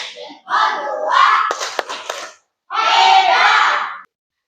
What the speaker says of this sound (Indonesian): Ya, kita berikan tepuk jempol, tepuk jempol